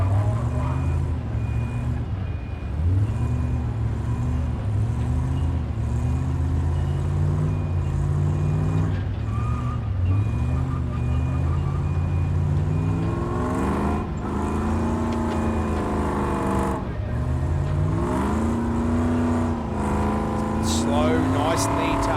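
An off-road truck at a Tuff Truck Challenge stage sits spinning all four wheels as its engine roars and surges in long, rising and falling revs, running continuously under loud commentary.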